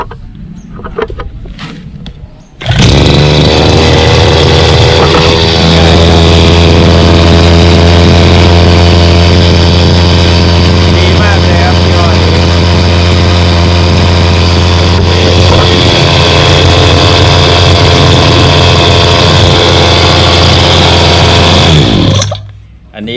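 A two-stroke brush cutter is switched on and started after a few quiet handling sounds, then runs loud and close at a steady buzzing idle with strong harmonics for about twenty seconds before cutting off.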